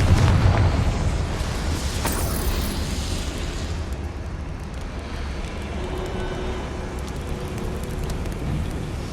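A Confringo fire spell bursts in Hogwarts Legacy, a loud booming blast at the start that rolls into a sustained rumbling roar, fading slowly into a lower, noisy background.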